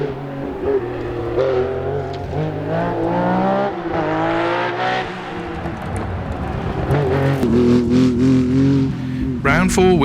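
A Porsche 911 Carrera RS rally car competing in a European historic rally at Rallye Weiz, its engine loud and close, revving in rising and falling sweeps that run steadily through the whole stretch.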